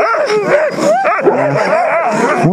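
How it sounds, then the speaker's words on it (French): Several dogs in a pack vocalise close by, mixing short yips and barks with rising, whining whimpers in a continuous restless stream. "c'est un gros toutou bien sage"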